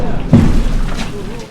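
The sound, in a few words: Russian artillery barrage explosions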